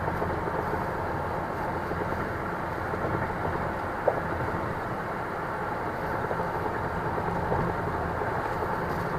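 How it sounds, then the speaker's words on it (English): A train rolls through Cajon Pass in California as a steady, distant rumble that holds at an even level throughout, with no voices over it. "Can you guys see the train? It's actually out there."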